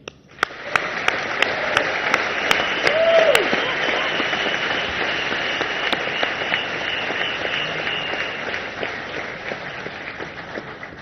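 Sustained audience applause at a large corporate meeting honoring Jio employees, a dense wash of clapping that swells early and holds steady for about ten seconds before thinning, with a few sharp individual claps standing out.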